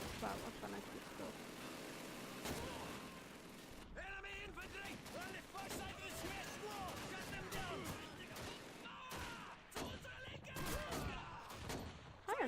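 Gunfire in the video game Call of Duty 2 crackles in rapid bursts and single shots over a constant battle din, loud and close, with someone talking over the shooting.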